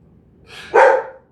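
A single dog barks loud and close, a short sharp double bark lasting under a second against near silence.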